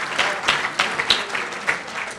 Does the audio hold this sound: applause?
yes